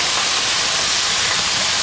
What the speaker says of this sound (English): can you hear me over that sizzle?